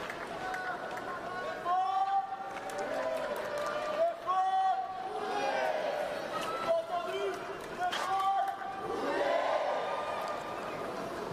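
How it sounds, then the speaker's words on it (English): Fans in the stands of a wheelchair tennis match call out rhythmic chants and cheers for Stefan Ude, led by one spectator, amid a busy crowd roar with talking voices mixed in. "Person leading the cheers in the crowd, getting Stefan Ude."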